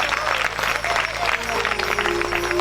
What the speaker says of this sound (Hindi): ऐसे पिताओं के लिए एक बार जोरदार ताली